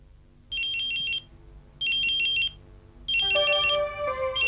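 An electronic phone ringtone plays in three bursts of rapid trilling, the last followed by a short melodic jingle, loud and clear with no voices.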